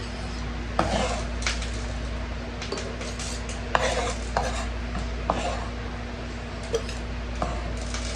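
Mincing food with a knife on a cutting board while making refrigerator pickles: scattered sharp taps and scraping knocks at an irregular pace, moderately close, over a steady background hum.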